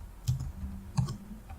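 A few keystrokes on a computer keyboard in Kali Linux, two distinct clicky clusters of taps close up, with a fainter tap at the end and no talking.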